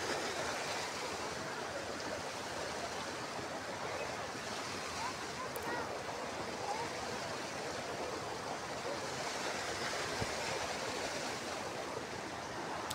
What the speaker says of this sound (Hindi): चेक करो गाइस कितना साफ पानी बह रहा है